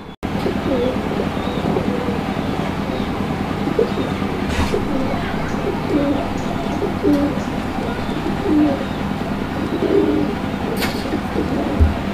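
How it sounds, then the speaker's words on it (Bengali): Large pigeons, including sky-blue Gola birds, coo repeatedly in soft, throaty, rolling calls at a pigeon farm, with a steady background rumble of distant traffic or a train and a few brief clatters. "এটাও অনেক বড় সাইজের একটা কবুতর মাশাআল্লাহ"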